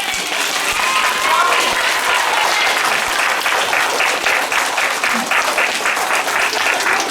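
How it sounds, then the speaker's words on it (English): An audience at a Vasant Panchami school assembly applauds UKG students, loud, steady, dense clapping that settles into a rhythmic unison beat, with a few voices mixed in. "Now give a big round of applause for UKG students."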